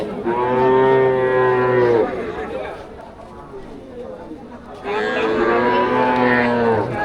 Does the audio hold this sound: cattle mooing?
yes